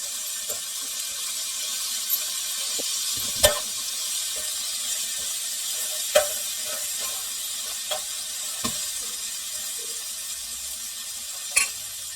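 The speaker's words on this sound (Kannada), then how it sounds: "ಇದನ್ನು ಮತ್ತು ಕೊತ್ತಂಬರಿ ಸೊಪ್ಪನ್ನು ಎರಡು ಹಾಕ್ಕೊಂಡು ಒಂದು ಎರಡು ನಿಮಿಷ ಹಾಗೆ ಬೇಯಿಸ್ಕೊಳ್ಬೇಕು" Masala frying in a pan with coriander leaves added for masala poori: a continuous soft sizzle with occasional scrapes and taps of a stirring spoon against the pan, close and alone.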